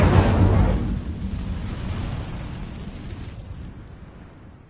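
The Incendio fire spell in Hogwarts Legacy lands as a loud whooshing burst of flame, then a roaring fiery rumble that slowly fades over several seconds.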